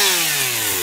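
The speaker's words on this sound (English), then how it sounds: "We're cutting down all the stuff to make the nest with the chainsaws." Chainsaws cut wood outdoors to gather material for a giant bird's nest, a loud, close engine whine with steadily falling pitch as the blade bites in, lasting the whole brief moment without voices.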